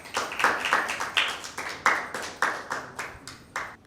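At a school Bible quiz, a group claps for a team that answered correctly. About a dozen evenly spaced bursts of clapping ring out in a steady rhythm, moderately loud in the room.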